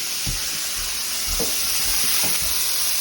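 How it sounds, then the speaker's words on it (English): Spinach dropped into a hot pot just used for salmon, stove off, gives a loud close sizzle and hiss with a few soft thumps of leaves and stirring, no voices. "We're going to take this spinach and we're going to drop it in the pot. The stove is not on, but trust me, it is hot"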